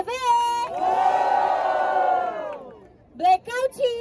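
A rap battle crowd in the Batalha da Leste cheers and shouts in a loud, sustained roar, then fades and bursts back in with short whoops and cries near the end.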